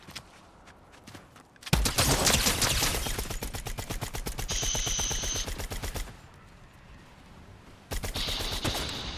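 Rapid SMG fire rattles in Fortnite, two long sustained bursts of close, loud automatic shots separated by a brief pause, with a shorter burst at the end.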